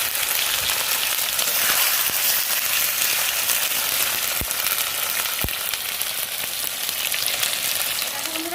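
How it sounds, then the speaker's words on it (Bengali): Unmarinated chicken frying in a pan, a loud, dense, continuous sizzle like heavy rain, close by, with a couple of faint knocks and no talking. "এবারে তো ভালো করে অনেকক্ষণ ভাজবে, টাইম লাগবে, তাই না বলো?"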